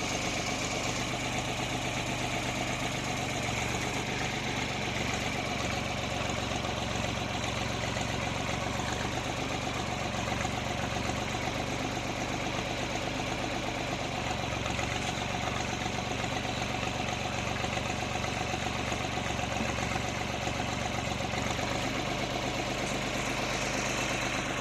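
A tractor engine runs steadily at a low idle while backing up to pull decking up onto a roof, a continuous loud rumble with a faint knocking texture and no talk.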